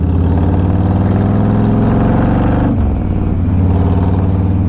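A Harley-Davidson Softail Deuce motorcycle engine runs loud and close, a steady deep rumbling idle that dips briefly in pitch partway through before settling back, with no voices.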